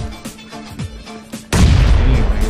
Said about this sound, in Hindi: ग्रेनेड से